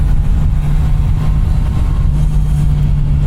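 A Kawasaki motorcycle engine holds a loud, steady low hum while riding in second and third gear, a constant engine tone under heavy wind rush.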